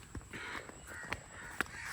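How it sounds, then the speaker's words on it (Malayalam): A crow caws several times at a distance, with short harsh calls spaced irregularly over a quiet background. "കാക്ക"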